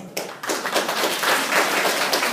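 Audience applause at a library event, clapping that breaks out after a brief quiet moment, swells quickly and holds as a dense, lively patter of many hands close by.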